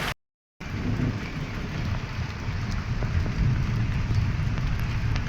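Steady heavy rain pours down with a low, continuous thunder rumble underneath, close and fairly loud after a brief silent gap at the start.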